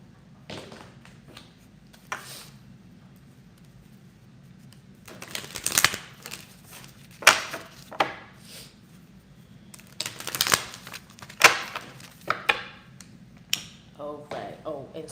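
Riffling card shuffles come in quick bursts of crisp fluttering clicks, repeated several times over a low steady background hum.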